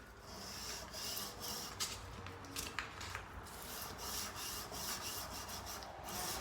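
Steady abrasive rubbing of a sanding block drawn by hand along a steel knife blade, continuous close strokes with slight rhythmic surges and no talking.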